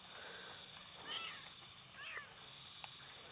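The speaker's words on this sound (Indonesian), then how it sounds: "Tiba-tiba kucing ini kok datang ke sini ya?" A stray cat meows twice in a short, rising pattern, fairly faint against steady background noise, with a small extra chirp toward the end.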